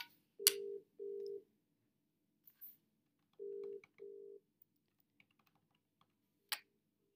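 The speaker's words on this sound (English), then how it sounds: "So I'll press the TRAN key, dial the extension, and then press hash to confirm." Keypad tones from a T23 desk phone as an extension is dialed: two pairs of short steady beeps with a pause between them and faint clicks between presses, close and clean in a quiet room.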